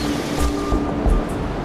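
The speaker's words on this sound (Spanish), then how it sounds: "la línea donde rompen las olas" Ocean waves break on the shore in steady rolling surges of whooshing surf, fairly loud and close, with no voices.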